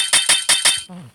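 Four sharp metallic clinks in quick, even succession, bright and close, followed by a short low ringing tail.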